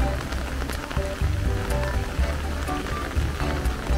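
Steady rain patters on a surface with scattered drops, a constant wet hiss that fills the whole stretch.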